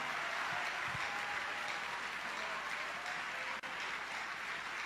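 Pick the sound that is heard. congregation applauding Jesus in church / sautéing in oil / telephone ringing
congregation applauding Jesus in church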